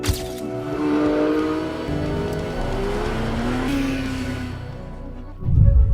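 A Porsche GT3 RS with a 4-liter naturally aspirated engine revs hard and loud, its high pitch climbing and shifting through several sweeps before a deep rumbling thump at the end.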